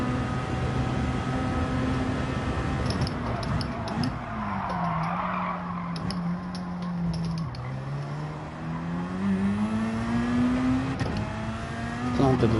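A car engine drones steadily while driving in Gran Turismo 7, its pitch dipping and climbing through shifts, with faint tyre and mechanical rattles over a continuous, close hum.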